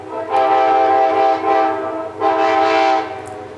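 A train horn sounds in two long, loud blasts near a rural line that sees only a couple of trains a day, its stacked harmonic tones holding steady with a brief dip between the blasts.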